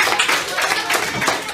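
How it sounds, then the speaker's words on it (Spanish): Children in a fifth-grade classroom clap together, a dense, close burst of applause that stays steady for about a second and a half. "Un aplauso."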